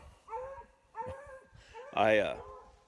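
A dog gives a few yips and whining barks close by, the last one louder and more drawn out, with rumbling in the background.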